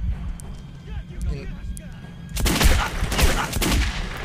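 Gunfire in the video game Metro 2033: loud, rapid bursts of shots hammer away for the last two seconds after a quieter stretch of game ambience.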